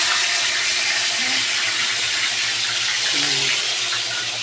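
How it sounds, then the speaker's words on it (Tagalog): Water runs from a sink tap for washing dishes, a steady bright hiss with faint clinks of plates underneath, continuous and close, with no talk. "Maghugas tayo ng plato."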